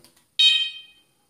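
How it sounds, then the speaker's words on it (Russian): A GSM security alarm gives its arming signal: a single short electronic tone, a bright buzzing beep lasting about half a second and fading out, close and alone after brief faint clicks. "Включаем сигнализацию."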